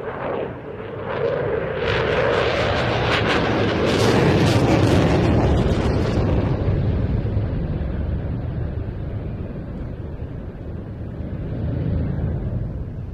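A Eurofighter Typhoon fighter jet rolling at an air show gives a loud, distant roar with a rushing burst that swells and then fades into a sustained rumble.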